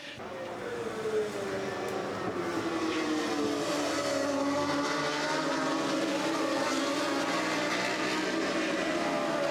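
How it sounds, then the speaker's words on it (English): Honda Fireblade superbikes racing at Oulton Park, a continuous loud engine roar with rising and falling pitch as the bikes pass, and a commentator talking over it. "O'Halloran's lit up the Fireblade and stretched his rivals straight away."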